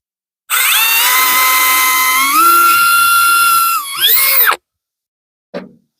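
A power drill drives a screw into an RV while installing a MORryde cord keeper, a loud, steady whir lasting about four seconds, rising in pitch partway, then a brief final burst and a short click after it stops.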